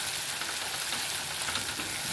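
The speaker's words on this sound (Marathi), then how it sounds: "छानपैकी आपल्याला खरपूस असा परतून घ्यायचा आहे" Masala frying in a mix of oil and butter, a steady close sizzle with soft crackle that runs unbroken with no talk.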